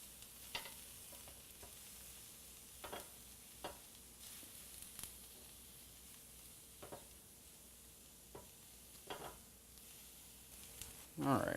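Sausage sizzles in a frying pan, a soft continuous hiss with scattered clicks and light scrapes as it is turned, close but quiet, ending in a louder rustle.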